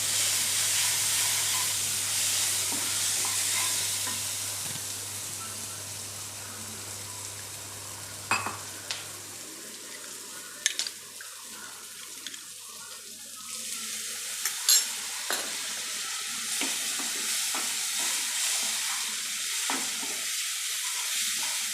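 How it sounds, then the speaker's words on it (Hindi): Okra and finely chopped onion frying together in a pan, a continuous hissing sizzle with occasional stirring knocks and scrapes, close up, growing slightly quieter partway through. "ये हमने इसमें एक बारीक कटा हुआ प्याज वो भी डाल दिया साथ में। तो इनको साथ भूनेंगे।"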